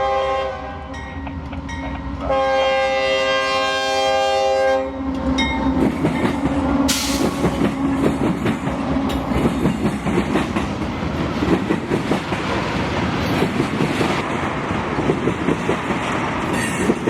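A freight train passes close by, an ethanol tank train among the traffic: a long, loud horn blast opens, then heavy wheels clatter and rumble steadily over the rails with rhythmic clicks and occasional squeals.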